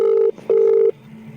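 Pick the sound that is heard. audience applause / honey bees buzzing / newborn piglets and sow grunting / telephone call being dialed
telephone call being dialed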